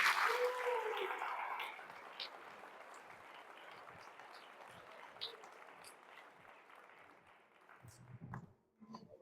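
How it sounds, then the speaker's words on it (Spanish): A church congregation applauds the Lord during a Spanish-language service, a brief burst of clapping and voices at the start that fades into a long, soft, diminishing patter, ending with faint sounds near the close. "Denle un aplauso al Señor por eso."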